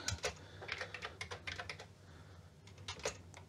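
Keys clatter on a Spectravideo SVI-328 MKII home computer keyboard in quick, uneven bursts with a brief pause midway, close and fairly quiet.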